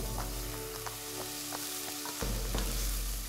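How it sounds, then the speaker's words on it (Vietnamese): Steady loud sizzling of chicken offal stir-frying in a pan with shallots, with occasional soft scrapes and knocks as it is stirred. "Phi thơm hành tím, cho lòng gà vào xào chung."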